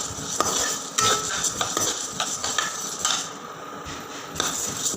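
Lentils dry roasting in a pan, stirred with a metal spoon, producing scraping and rattling with occasional sharper clinks against the pan over a faint background hiss.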